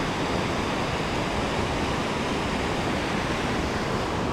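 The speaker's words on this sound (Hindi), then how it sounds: "इधर से देखिए ये नदी इधर से आ रही है" A mountain river on the Annapurna Base Camp trek rushes in a steady, loud, broadband roar with no breaks and no voices.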